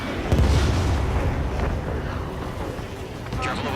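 Missile launching from a fighter jet in the video game Ace Combat 7, a loud rushing whoosh with a low rumble over wind-like roar, with faint speech.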